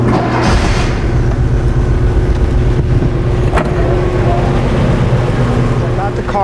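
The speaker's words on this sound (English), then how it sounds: "Now let's go start the car and get some data." A 1987 VW Vanagon engine with a misfiring, stalling condition runs loud and close, a rough, steady idle with an uneven throbbing pulse, and someone talks over the noise.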